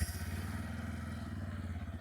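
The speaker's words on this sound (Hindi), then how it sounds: "एक बार इंजन को स्टार्ट कर लेते हैं।" A 2026 Bajaj Pulsar 125 motorcycle engine running just after starting, a low rhythmic idling thrum heard close and fairly quiet.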